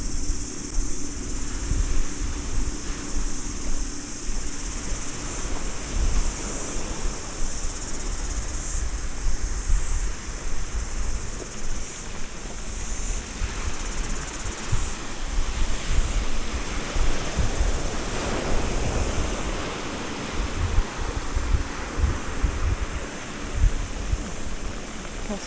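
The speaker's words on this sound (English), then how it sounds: "Lovely little beach." Waves wash steadily onto a small beach at Orere Point, a continuous close surf roar. Wind buffets the microphone and insects chirp faintly in the background. Nobody speaks.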